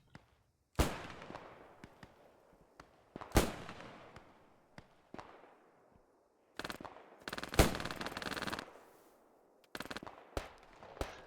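PPD submachine gun fire in a World War II video game battle, loud automatic bursts of rapid shots separated by short pauses, near and sharp, with distant gunfire and echoes trailing off between them.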